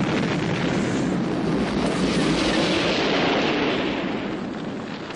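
A burning ship loaded with munitions explodes in a model harbour scene. A loud, dense, continuous roar of blasts and rumbling fills the whole stretch and eases slightly toward the end.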